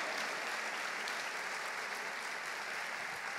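A church congregation applauding the Lord during a sermon, a continuous wash of many hands clapping at moderate distance, steady and fairly faint, with no talking over it.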